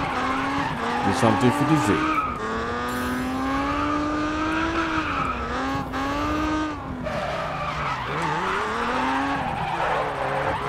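A Z car drifts in the GRID Autosport racing game during a drift attack, its tires squealing in long, wavering, sustained howls over a steady engine drone, while someone talks briefly near the start.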